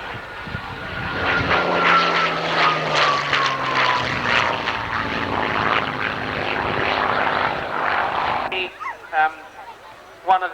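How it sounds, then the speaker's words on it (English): A Hawker Hurricane propeller fighter flies past at an airshow, its piston engine roaring loud and rough with a falling pitch before fading, while a commentator talks over it. "The Hawker Hurricane."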